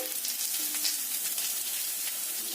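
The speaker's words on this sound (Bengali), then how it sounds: "গাজর আর আলু ভাজা ভাজা হয়ে গেছে এতে দিয়ে দেব অল্প করে ঘি" Fried carrot and potato pieces sizzling in a pan as ghee goes in, a bright, continuous crackling hiss, close and fairly loud throughout with no speech.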